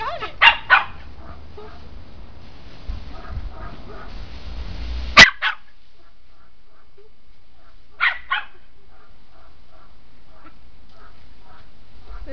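A puppy yips and barks in short bursts while chasing water spraying from a garden hose, sharp barks near the start, middle and later, with faint hose hiss between and no talk.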